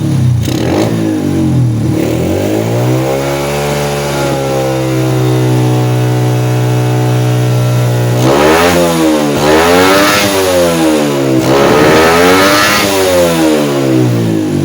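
A Honda Supra motorcycle with a fault of low power and weak top-end pull, its engine loud and close, idling then revving repeatedly in rising and falling surges.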